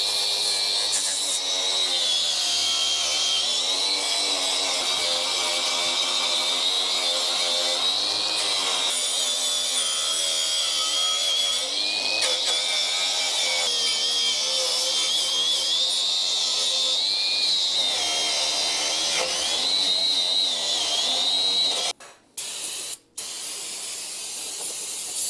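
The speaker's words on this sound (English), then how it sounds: "I'm gonna hit this with the wire wheel" Wire wheel scrubbing a drum brake backing plate on an International pickup, a steady high grinding whine with shifting hiss that runs unbroken for over twenty seconds, then cuts off with a couple of short bumps.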